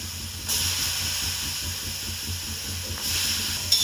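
Ridge gourd dropped onto a hot griddle on a gas stove gives a steady, close hissing sizzle that swells in bursts, with no talk.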